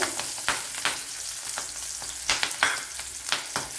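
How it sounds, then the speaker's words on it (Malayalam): Garlic, ginger and green chillies frying in coconut oil, a continuous sizzle broken by sharp clicks and scrapes from stirring, without any voice. "ഇവിടെ വെളുത്തുള്ളി ഇഞ്ചിയൊക്കെ മൂത്ത് വന്നിട്ടുണ്ട്."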